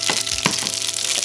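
Mustard seeds sizzling and popping in hot coconut oil, a steady close hiss broken by a few sharp crackles.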